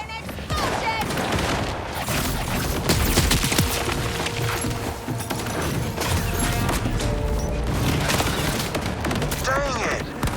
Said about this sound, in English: Prepare for an explosion!